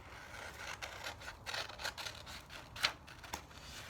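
Scissors cut out a paper hand shape, giving faint, quiet, irregular snips and scrapes of paper, with one sharper click standing out among them.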